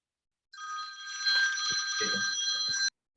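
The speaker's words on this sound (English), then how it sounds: "Somebody is on the phone." A telephone rings with a continuous electronic trill lasting a couple of seconds, fairly close, with a few faint knocks and rustles beneath it before it cuts off abruptly.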